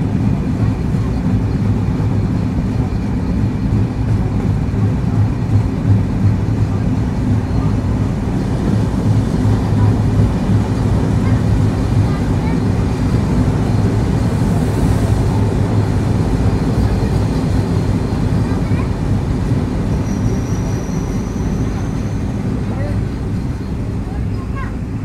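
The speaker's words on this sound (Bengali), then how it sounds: "এখন ডিপার্চার নিচ্ছি ফরিদপুরের ভাঙা রেলওয়ে জংশন থেকে" The Rupsha Bangla Express pulls out of Bhanga railway junction in Faridpur, heard from on board as a loud, steady low rumble and rattle of the moving carriages throughout, with a faint high whine near the end.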